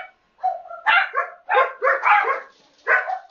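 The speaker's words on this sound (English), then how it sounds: "I apologize for my dogs." Dogs bark and yip indoors in several sharp bursts with short gaps between them, fairly close, and no voices come through.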